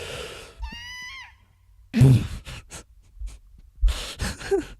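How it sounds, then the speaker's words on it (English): Stock scream from an RPG Maker video game, a short loud cry with rising and falling pitch near the start, followed by gasping breathy vocal sounds and bursts of noise. "I have heard that stock scream so many fucking times in so many RPG Maker games"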